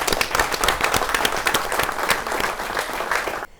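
Loud, sustained applause from a sizable crowd at an awards grand finale, dense rapid clapping that carries on before cutting off abruptly at the end.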